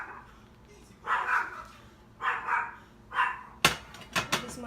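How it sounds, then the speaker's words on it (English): An excitable dog barks in the background indoors, a few short bursts spread over several seconds followed by sharper yips near the end, fairly faint and distant while someone tends cast iron pans. "This is my excitable dog you hear in the background."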